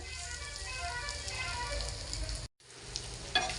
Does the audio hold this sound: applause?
no